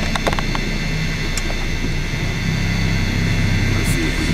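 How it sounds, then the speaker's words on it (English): Airplanes passing overhead produce a steady, broad engine roar with a low droning hum, holding fairly loud throughout with a few faint clicks and knocks mixed in. "And there go those planes right there. They'll just constantly fly by, you know."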